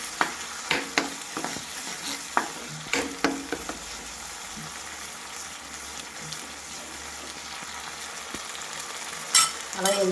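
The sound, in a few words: onion paste frying with masala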